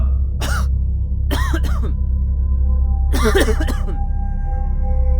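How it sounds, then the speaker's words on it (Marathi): A person coughs in three rough bursts, with pauses between, over a low steady hum. "आतमध्ये कोणीतरी खोकत असल्याचा तो आवाज होता"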